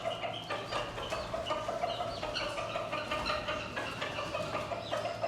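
Chickens, among them a black hen, clucking continuously at close range while being fed crumbled roti, with layered overlapping calls and faint background bird sounds.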